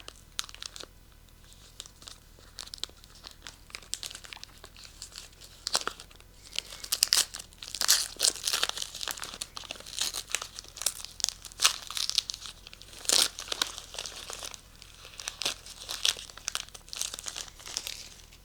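A small advent calendar gift is unwrapped by hand, with close, irregular crinkling and tearing of paper in bursts that grow busier midway and continue to the end.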